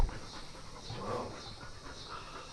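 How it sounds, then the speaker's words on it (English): A small dog pants quickly and softly nearby in a quiet indoor space, a faint rapid breathy rhythm with no talking. "There's like a mini dog of some sort."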